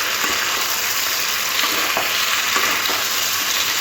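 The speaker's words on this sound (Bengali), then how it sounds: "পোস্ত সর্ষে বাটাটা দিয়ে দিলাম ভালো করে সবজির সাথে সর্ষে আর পোস্তটা মিশিয়ে নিতে হবে" Mixed vegetables coated in a ground poppy seed and mustard paste fry in a pan for shukto, giving a steady, loud broadband sizzle with faint stirring scrapes and no voices.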